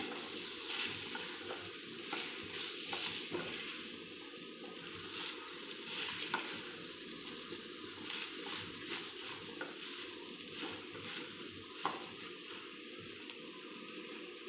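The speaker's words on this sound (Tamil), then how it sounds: "இதை நல்லா இப்போ நான் மிக்ஸ் பண்ணிக்கிறேன்" Okra is stirred into a pan for Tamil vendakkai pulikari, a tamarind curry, with a soft, continuous, fairly faint sizzle and light stirring noise throughout and a few small knocks.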